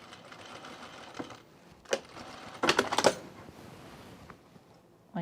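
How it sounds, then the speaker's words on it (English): Sewing machine stitching a curved lapel on a blazer, short bursts of rapid mechanical clatter separated by quieter handling noise, close by with no talking. "I'm just going to sew a curve here."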